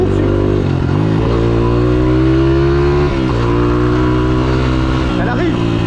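A black Ford Mustang's engine holds a steady, loud, close idle-to-rev drone, with pitch rising and dipping a few times as the throttle is blipped.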